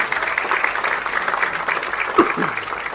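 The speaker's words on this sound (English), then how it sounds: "A big round of applause, ladies and gentlemen." A crowd claps continuously, dense and even, with a few louder claps and a brief shout near the end.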